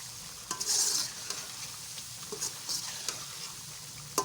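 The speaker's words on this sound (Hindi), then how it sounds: "इसे हम अच्छी तरह मसाले में भून लेंगे" Chicken pieces and green chilies frying in masala, stirred with a steady sizzle and brief scraping clatters; no voices.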